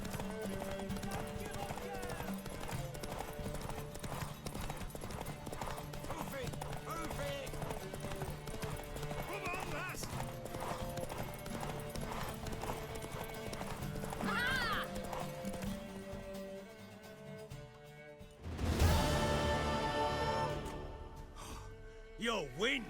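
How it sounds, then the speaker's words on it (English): A horse galloping in the video game The Witcher 3, steady rapid hoofbeats running throughout with a whinny, then a loud burst of noise near the end. "go, go, go, little horsey."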